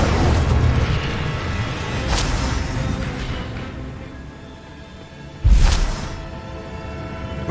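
The Incendio fire spell in the video game Hogwarts Legacy bursts out as a whooshing blast with a deep boom, then a second, louder burst follows a few seconds later, over a rumbling game background.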